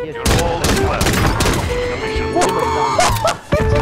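Gunfire from the video game Call of Duty Modern Warfare comes as rapid, loud bursts of shots and impacts over a few seconds, with brief gaps between volleys.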